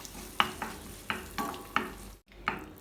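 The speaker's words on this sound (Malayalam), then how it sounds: "ഇതെല്ലാം കൂടി നല്ലോണം ഒന്ന് ഇളക്കി മിക്സ് ചെയ്യാം." A spoon stirs red chilli sauce and tomato ketchup in a pan for cabbage Manchurian, making about six scraping strokes at a loose rhythm over a low sizzle, close and fairly quiet, with a brief silent gap and no voices.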